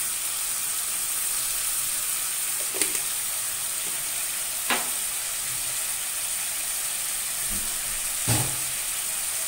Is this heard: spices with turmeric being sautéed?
yes